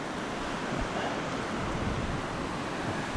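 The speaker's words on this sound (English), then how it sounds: "Here's the wind yet, still blowing at about 35 or 40 miles an hour." Strong wind of about 35 to 40 mph roars steadily through the 2011 Groundhog Day blizzard in Franklin, Wisconsin, driving drifting snow: a dense, unbroken rushing noise with no pauses and no voices.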